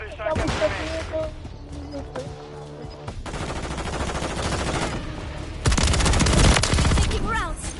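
Bursts of automatic gunfire in a shooter video game, several loud sustained volleys separated by short pauses, with a player's voice and game sounds mixed in.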